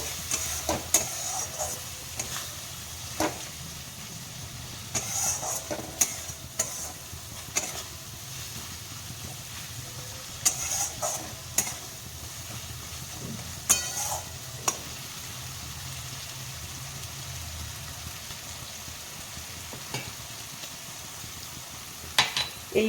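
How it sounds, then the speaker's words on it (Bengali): Turmeric and spices sauté for an eel fish curry: a soft, steady sizzle in a pan with intermittent sharp scraping and stirring knocks scattered throughout, fairly quiet and close, with no talking. "এবার সব মশলাগুলো একসাথে ভালো করে কষিয়ে নেব"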